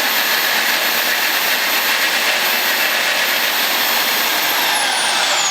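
A portable bandsaw cuts on a porta band table with a loud, continuous bright buzzing whine that holds steady throughout, with no talking.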